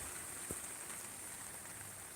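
Heavy rain falling, a faint, steady broadband hiss of rainfall throughout with no voices.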